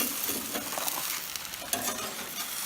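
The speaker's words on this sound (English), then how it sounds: "there'll be a lot of grease popping off of here" Shrimp and steak grill packs sizzling hard, with grease crackling and popping in a dense, steady hiss of close, irregular spits and small bursts, no voices.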